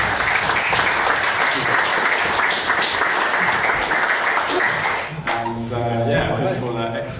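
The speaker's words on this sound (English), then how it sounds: "Let's have a round of applause." A large crowd at a football club gathering gives a dense, sustained round of applause for about five seconds before it thins out and a voice takes over.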